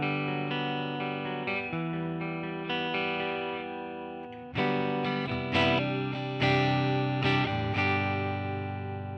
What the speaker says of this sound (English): The 67 Black Duo is based on a 1967 Fender Twin Reverb. This is another one that's great for clean and clean crunch,